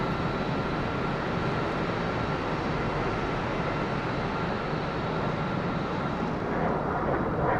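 A Harrier jet flying a circuit in a flight simulator video game, a loud, constant engine roar and rushing air that holds steady throughout without a break.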